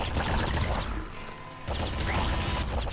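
Dense, rapid gunfire from the Nuclear Throne video game rattles loudly and continuously, briefly dropping out for a moment before resuming in a sustained barrage.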